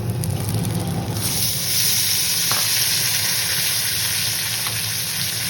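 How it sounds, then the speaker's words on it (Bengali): Kohlrabi, potato and green banana fry together in oil tempered with black cumin, giving a loud, steady, close sizzle that holds unbroken throughout, with no talking. "ওলকপি আলু কাঁচকলা সব একসাথে কালো জিরা ফোড়ন দিয়ে তেলে ভাজা হচ্ছে"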